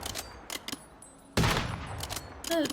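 Video game gunfire crackles in short, sharp bursts, a few scattered shots followed by a louder cluster, with a brief tonal blip near the end.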